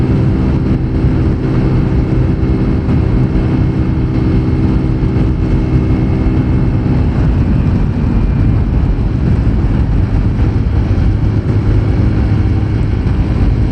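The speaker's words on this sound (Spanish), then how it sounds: "Sube re genial esta moto." An Apache 200 Fi ABS motorcycle climbs a hill with a loud, steady engine drone, heavy wind buffeting mixed in, unbroken for about fourteen seconds.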